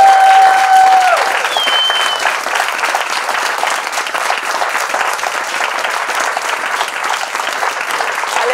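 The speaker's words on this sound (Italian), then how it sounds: "3, 2, 1, applausi." Sustained applause from a conference audience at a freelancers' camp farewell session, dense steady clapping lasting throughout after a brief whistle-like tone at the start, loud and close.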